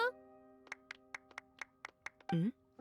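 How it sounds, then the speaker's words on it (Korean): Sparse clapping in a Genshin Impact cutscene in Fontaine, about a dozen separate claps in an uneven rhythm, sitting alongside a sustained tone, with a brief voice at the end. "다들 박수!"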